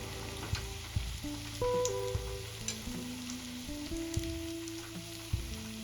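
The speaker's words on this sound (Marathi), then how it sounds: "इथे आपल्याला छान गोल्डन कलर येईपर्यंत भजे तळून घ्यायचे आहे" Potato bhaji fritters deep-fry in hot oil with a steady close sizzle and bubbling, broken by occasional soft pops and knocks of a spoon, with no voices.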